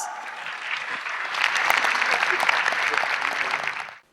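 A large audience applauds in welcome of the Prime Minister of Pakistan at a Commonwealth gathering, a full, sustained wave of clapping that swells slightly midway, holds, then stops abruptly.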